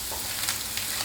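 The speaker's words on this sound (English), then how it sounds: "Give it a stir through" Spring onions stirred into Thai scrambled egg in a pan, a brief, steady, close frying sizzle with no talking.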